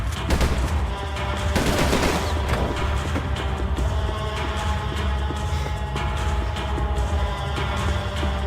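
Gunfire crackles in the video game Max Payne 3, a dense, continuous barrage of rapid shots with heavier booms early on, loud and sustained throughout with no voices.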